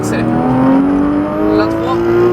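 Porsche 991 GT3 RS engine revving hard and rising in pitch as it accelerates on a race circuit at La Ferté, a loud steady in-car drone with a brief pitch dip, while a voice talks over it.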